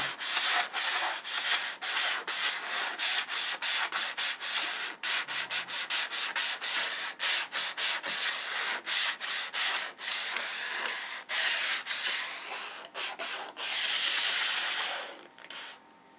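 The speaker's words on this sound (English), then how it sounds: "So now I get the credit card or the sign squeegee. Squeegee it down." A squeegee or credit card rubs down gold leaf in close, repeated scraping strokes, a fast rhythmic series of dry, hissy swipes with brief gaps, ending in one longer rub.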